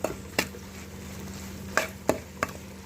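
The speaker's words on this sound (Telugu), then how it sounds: "దీన్ని మొత్తం కలిపేయాలి." A spoon stirs spice mix into an okra stir-fry, giving four distinct scrapes against the pan over a soft, steady sizzle, close up, with no talking.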